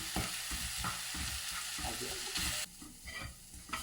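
Masala with chilli powder sizzles and is stirred in a hot pan, steady frying hiss with scraping strokes of the spoon, close and fairly quiet, dropping lower near the end.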